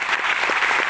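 Seminar crowd at an Indian business event breaks into a brief, loud wash of applause, steady and close, with no talk audible.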